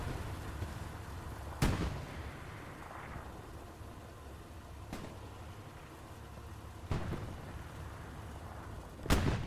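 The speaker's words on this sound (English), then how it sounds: "Another rocket goes out." Rockets fired in the World War II shooter Hell Let Loose on the Elsenborn Ridge map, with several sharp launch blasts spaced a few seconds apart over a constant battlefield rumble.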